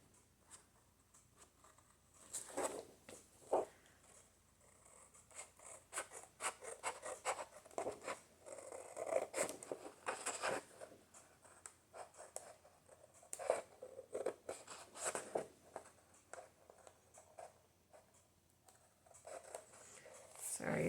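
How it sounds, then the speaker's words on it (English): Scissors snip around the cover of a half-size composition book through scrapbook paper, a close series of irregular crisp cuts and paper rustles, with a soft voice talking at times. "Start right here and cut around."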